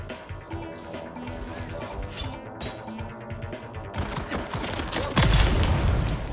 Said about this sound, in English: Oh, again with the grenades.